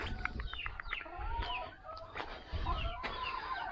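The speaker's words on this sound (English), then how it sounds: "Chickens." Chickens on a farm cluck in quick, irregular bursts close by, several hens calling over one another against a quiet background.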